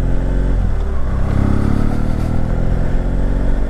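A motorcycle is ridden at around 30 to 40 miles per hour, its engine droning loud and close with a steady rumble and some rattling clatter throughout.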